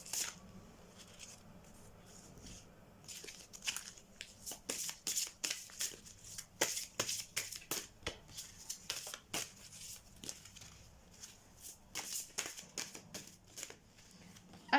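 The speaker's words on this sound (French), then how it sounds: "je vais les mélanger et on va tirer une carte" Tarot oracle cards are shuffled by hand in a quiet room, giving a long run of quick papery riffles and flicks that come in dense bursts, close and fairly soft, with no talking.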